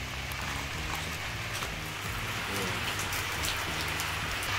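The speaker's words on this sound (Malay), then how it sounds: "Ni hujan turun." Steady rain pours down over a garden plot, a dense, continuous hiss of drops striking surfaces at close range, with no voices.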